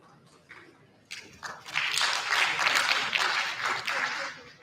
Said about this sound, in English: So let's give a round of applause to our panelists